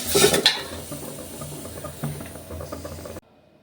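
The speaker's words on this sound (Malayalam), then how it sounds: "ഇതിപ്പോൾ നല്ല രീതിയിൽ വറുത്തൊക്കെ എടുത്തിട്ടുണ്ട്" Dry leaves rustle and crackle as they are roasted and stirred in a pan until charred, with a few scraping clinks of a utensil before the sound cuts off.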